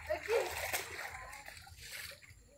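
Water splashes and sloshes during a girls' outdoor game, with close splatter at the start and a softer splash later, mixed with voices talking.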